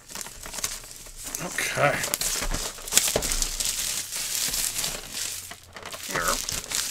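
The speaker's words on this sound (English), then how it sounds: "the wrapping is loose on it, so it's hard to actually like get it and get enough tension to pinch it to rip it" Loose paper wrapping is crinkled and ripped off an Army Painter Fanatic package, with close, continuous crumpling and brief tearing bursts while a person talks over it.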